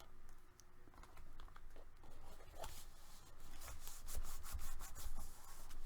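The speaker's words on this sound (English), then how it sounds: "And burnish that on." Paper is burnished onto a mini album page, a quiet series of short scratchy rubbing strokes that grow a little denser and louder toward the end.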